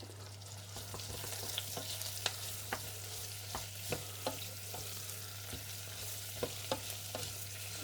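Nettles and courgette fry in a pan with a constant close sizzle, while a utensil stirs them in irregular clicks and scrapes that punctuate the hiss.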